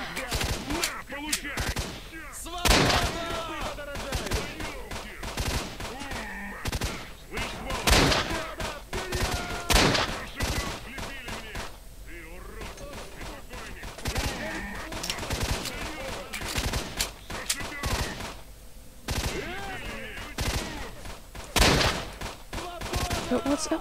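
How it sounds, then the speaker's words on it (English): Rapid gunfire from the video game S.T.A.L.K.E.R. Shadow of Chernobyl: sharp bursts and single shots crack out repeatedly throughout, with a voice talking over the combat. "So let me just headshot you."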